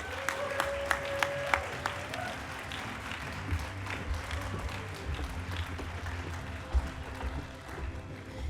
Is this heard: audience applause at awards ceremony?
yes